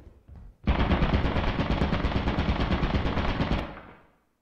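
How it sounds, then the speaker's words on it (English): A turret in the video game Lethal Company opens fire in one sustained, rapid automatic burst lasting about three seconds, loud and dense, then cuts off abruptly. "There's a turret over there."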